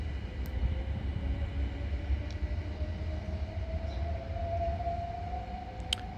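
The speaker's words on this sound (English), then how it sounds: "10:59 Southeastern service from London Charing Cross to Hastings" A Southeastern train from London Charing Cross to Hastings passes through Tonbridge with a low rumble and a rising whine that climbs steadily, joined by a few brief squeals and clicks.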